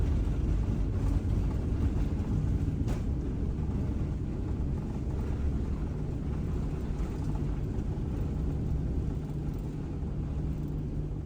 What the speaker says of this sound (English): I captured the moment of takeoff on camera